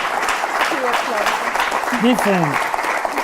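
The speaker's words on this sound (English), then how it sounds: "A big applause for her" Applause from an audience for a volunteer at a card-trick show, steady clapping throughout with voices speaking over it.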